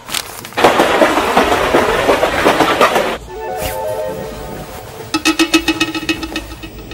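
A train running on rails, heard from inside the carriage: a dense, steady rumble that gives way to quieter tonal hums, then a burst of rhythmic, close clattering. No one speaks.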